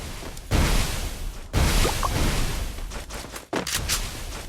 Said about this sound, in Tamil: நீ டபுள் பேரல்ல புல்லட் தீர்ந்துருச்சுன்னா மாத்தி சுடு, பிரச்சனையே இல்ல. ஃபுல்லா சுடு.